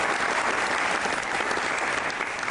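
Dense, steady applause from a studio audience at a Pakistani television comedy-drama performance, a continuous wash of clapping that fills the whole moment with no voices over it.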